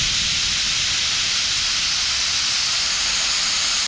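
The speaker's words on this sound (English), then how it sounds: "So I wanna open this bleed valve. We're gonna open it up and drain out what's in there." Nitrogen accumulator bleed valve on a Cat braking system held open, gas escaping in a loud, steady broadband hiss that continues unbroken throughout, close by and alone.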